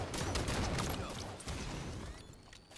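Dense rapid gunfire from the video game Halo in a 2v2 match, loud and continuous across the whole moment with sharp bursts layered over one another and no talk.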